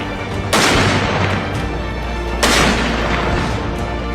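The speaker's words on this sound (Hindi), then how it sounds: "जनरल बिपिन रावत को 17 तोपों की सलामी दी गई।" Cannon fire from a 17-gun salute at General Bipin Rawat's state funeral: two loud, heavy booms about two seconds apart, each rolling out into a long echoing decay over a low outdoor rumble.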